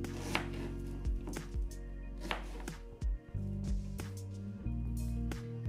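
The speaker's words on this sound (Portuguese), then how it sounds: "E agora eu vou cortar duas cabeças de cebola grande em rodelas assim para ajudar a processar essa cebola" A knife slices two large onions into rings on a cutting board, producing a series of crisp, irregular chopping thuds close by, with soft squishy cuts between the strikes and no talk.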